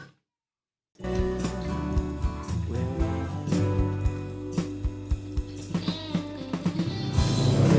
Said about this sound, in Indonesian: Nah, ini lagu yang belum di mixing, coba kita dengerin ya.